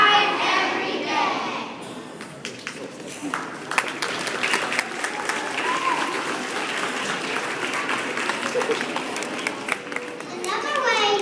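Fifth grade students at a school assembly clap and cheer, a crowd of children's voices and applause swelling in a large room after a brief quieter moment, continuing steadily throughout.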